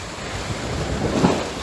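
Steady wash of ocean waves on a beach on an island in Honduras, with wind buffeting the microphone, continuous and close.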